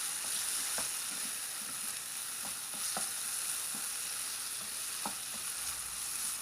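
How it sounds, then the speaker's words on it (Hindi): Two finely chopped potatoes frying in cooking oil over a medium flame: a continuous close sizzle with occasional light scraping stir clicks, no one speaking. "खाने के चम्मच कुकिंग ऑयल और इसके अंदर हम 2 अदद बारीक कटे हुए आलू ऐड कर लेंगे और इनको मीडियम फ्लेम पे हम फ्राई कर लेंगे।"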